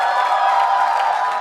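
An audience claps and cheers for a poet being called to the stage at a poetry event, a dense continuous wash of applause throughout.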